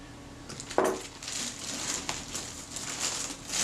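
A package is opened inside a plastic bag, with close, quiet crinkling and rustling of plastic, a sharp rattle near the start, and soft scattered crackles that follow.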